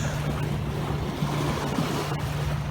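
A boat's passing wake rolls against an anchored sailboat at sea, a continuous wash and slosh of water under steady wind rumble, close and fairly loud.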